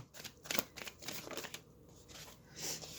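A deck of tarot cards is shuffled by hand in a quiet room, a quick run of soft riffling flutters and papery taps in uneven bursts, close and faint with no talking.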